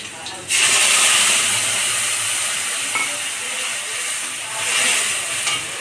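Spice paste hits a hot pan for a shol fish curry and bursts into a loud, bright sizzle, then settles into a steady hiss that rises again near the end.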